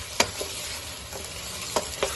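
Chicken sizzles in a karahi for green chicken karahi, a constant crackling fry with a few sharp scrapes and clacks of stirring, close and fairly loud.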